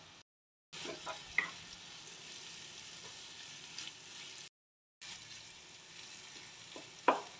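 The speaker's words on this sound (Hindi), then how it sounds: "इन सब सब्जियों को ढककर पका लेंगे।" Vegetables for Schezwan fried rice cook in a covered pan, giving a faint steady sizzle with a few light clicks, interrupted by brief silent gaps.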